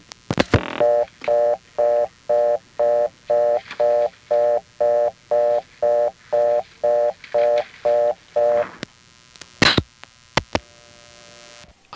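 Reorder tone from a number one step-by-step telephone exchange in New Haven, Connecticut, about 1974–1980: a loud, steady train of about eighteen even, rapid on-off tone bursts, followed by a few sharp clicks and a low residual hum.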